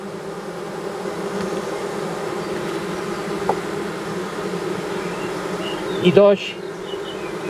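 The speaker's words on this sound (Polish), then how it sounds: "Te pszczoły jęczą." Honeybees whine inside a hive, a dense, continuous buzzing drone that holds steady throughout, with a brief voice near the end.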